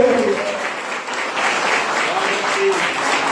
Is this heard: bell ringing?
no